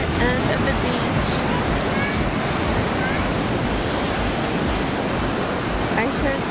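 Ocean waves wash onto Montara State Beach in a constant, loud surf roar with wind buffeting the microphone, no distinct breaks between swells.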